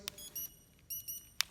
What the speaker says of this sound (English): hit the unlock, hear it beep twice.